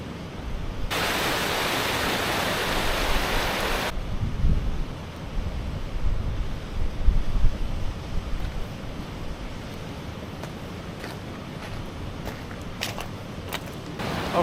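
A waterfall beside a bridge fills the air with a steady, broad rushing roar, near and continuous, with a brief stronger hiss of wind early on and a few faint knocks toward the end.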